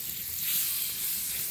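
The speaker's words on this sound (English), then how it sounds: "So I put some butter in the frying pan" Butter sizzling in a frying pan on an outdoor backyard cooking setup, a steady close frying hiss that holds alone without talk.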